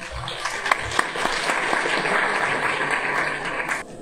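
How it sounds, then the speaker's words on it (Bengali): An audience at a gathering gives a round of applause for a madrasa, starting with a few scattered claps that swell into dense, steady clapping before cutting off near the end. "আমার মাদ্রাসার জন্য একটা করতালি তোমাদের কাছ থেকে চেয়ে নিলাম"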